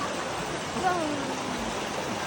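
Steady broadband rush of flowing river water fills the background, with a voice briefly heard over it.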